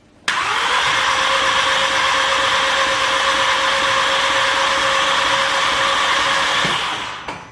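An Audi TT engine, freshly rebuilt and with its plugs out, cranks over on the starter in one sustained, loud whirring spin that begins abruptly and winds down after about seven seconds, with no voices.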